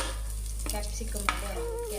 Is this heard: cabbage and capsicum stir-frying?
yes